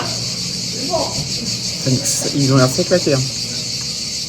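Cicadas in the summer heat above the Corniche Kennedy in Marseille make a steady high, shrill buzz that runs throughout, with people talking briefly over it.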